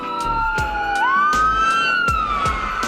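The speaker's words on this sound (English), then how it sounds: "Hear a bunch of sirens." Loud emergency vehicle sirens wail nearby on the Pacific coast, a strong sweeping tone that rises and falls, overlaid by sharp repeated clicks or knocks at a steady pace.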